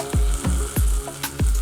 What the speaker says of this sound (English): The sizzling sound is really very nice